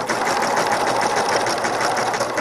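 A sewing machine runs a zigzag stitch right off the edge of the fabric, giving a continuous close, loud mechanical whir with a fast stitching pulse throughout.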